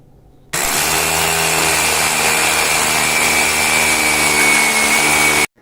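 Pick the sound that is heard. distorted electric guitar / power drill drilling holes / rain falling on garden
power drill drilling holes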